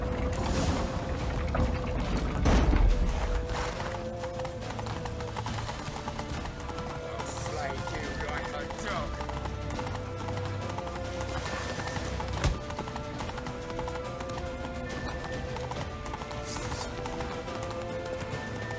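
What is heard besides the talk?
horse hooves galloping in video game The Witcher 3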